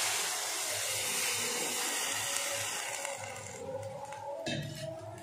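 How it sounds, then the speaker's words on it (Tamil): Water is poured into mutton cooked in masala in a pan. A loud, continuous hissing sizzle is heard, then shifts into a rougher bubbling texture partway through. "இப்போ மட்டன் வேகிறதுக்கு தேவையான அளவுக்கு தண்ணி சேர்த்துறலாம்"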